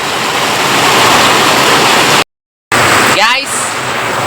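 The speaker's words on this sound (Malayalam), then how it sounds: "ഇത്ര പെരും മഴ കേട്ടോ." Heavy downpour on a day when roads are flooded with water, heard as a steady, dense broadband roar that cuts out briefly midway, then returns slightly softer.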